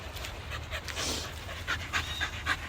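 Leashed dogs pant rapidly and close by, a rhythmic huffing that carries on throughout over faint background noise, with a brief rustle partway through.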